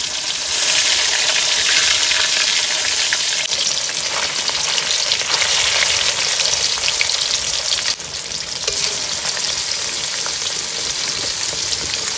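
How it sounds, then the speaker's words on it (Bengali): Bhetki (barramundi) fish, freshly caught and cut, frying in hot oil, giving a loud, steady broadband sizzle that runs throughout with small crackles and stirring bursts. "তেল গরম হয়ে গেছে বন্ধুরা, এখন মাছগুলো ভেজে নেব।"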